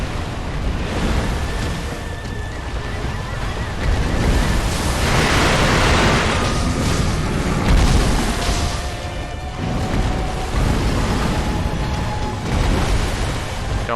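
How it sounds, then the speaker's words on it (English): Repeated firecracker blasts in Sekiro, several booming bursts in a row over a dense rumbling game soundscape, loud and continuous for most of the stretch. "I did not give enough delay between firecrackers"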